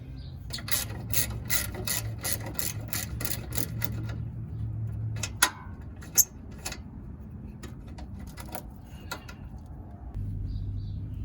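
A ratchet loosens the 10 mm ground screw on a 2020 Ford F-150 XLT during a trailer hitch install: a run of quick, close clicks, then slower scattered clicks and a couple of sharp metallic knocks, with no talking.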